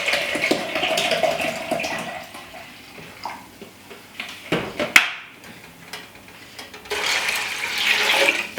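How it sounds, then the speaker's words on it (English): Four cups of vinegar poured into a cooking pot for fermented hot sauce, a gurgling liquid stream with splashy bursts and a clatter midway, then a renewed pour near the end, close and moderately loud, no talking. "So there we have 4 cups of vinegar. I'm gonna add this in."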